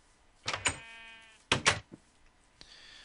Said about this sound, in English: A sheep. Yes, a sheep.